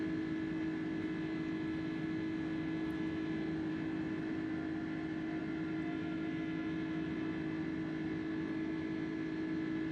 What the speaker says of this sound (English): Engines are going to be loud and climb out here.